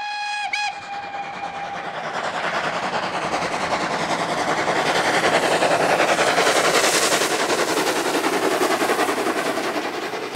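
A Henschel Bismarck-type steam locomotive, the Niedersachsen, fired with wood pellets, gives a brief whistle blast and then runs loudly with a dense, steadily building rhythmic chuffing and hiss close by.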